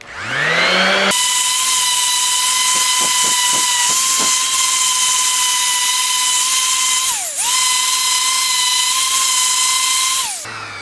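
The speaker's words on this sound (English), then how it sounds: "I'm just going to kind of sand in an edge" A high-speed rotary sanding tool smooths an edge on a steel axe head, a loud steady high whine that dips briefly in pitch twice under load, with a few faint ticks early on.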